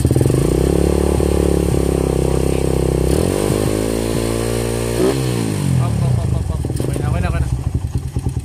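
A Raider 150 motorcycle with a charging fault idles loudly up close, then its engine revs up and down in repeated swells with a clattery mechanical edge.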